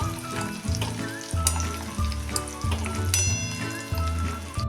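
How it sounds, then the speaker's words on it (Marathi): Peanuts frying in oil over a medium gas flame, being cooked crisp for spiced masala peanuts: a steady close sizzle and crackle with faint stirring, running continuously without voices. "मिडियम फ्लेमवर हे शेंगदाणे आपण असे खरपूस चांगले तळून घ्यायचे आहेत"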